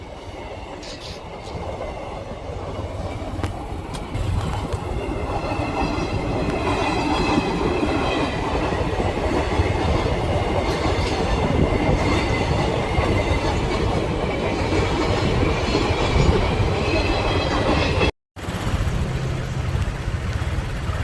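A train rolls past close by, a long, steady roar of wheels and carriages with rhythmic clatter and occasional squeals, holding loud throughout and broken only by a brief dropout near the end.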